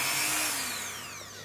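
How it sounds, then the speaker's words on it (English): Small power cutting tool, like a rotary saw or drill, whining steadily while cutting a torch coral frag, a close, bright continuous whir with a slowly falling pitch. "Let's try and cut this bit."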